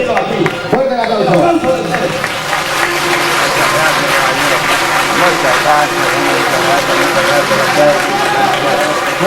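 An audience applauding for Manolo Mesa at a live show at Panambi Disco: a steady wash of clapping and crowd noise under a loud voice speaking over it.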